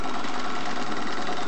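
A Regner Kraftwerk live-steam model engine runs steadily close by, giving a continuous, even mechanical chuff and hiss with no pauses.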